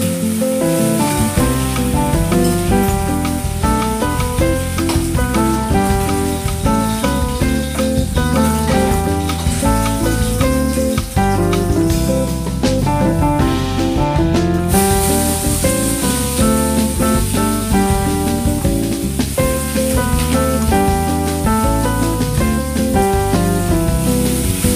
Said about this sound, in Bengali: এখন মুড়োটা ভেজে নিচ্ছি